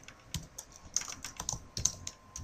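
Quick, irregular keystrokes on a computer keyboard, close and fairly quiet, with clustered clicks and short pauses between bursts while building a website; no voices.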